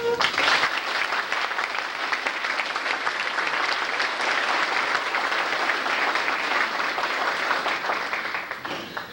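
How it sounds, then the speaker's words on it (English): Sustained applause from a banquet audience at a 1989 Chamber of Commerce awards dinner, steady dense clapping filling the room for about nine seconds before tapering off at the end. "would you please give a hand of applause to Judge Jim Wright"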